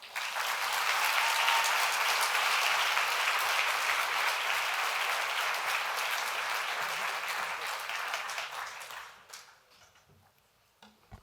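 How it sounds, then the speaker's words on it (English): An audience at an animal rights conference plenary applauds a speaker, dense sustained clapping that holds steady for about nine seconds before dying away into near silence. "So let's give him another round of applause"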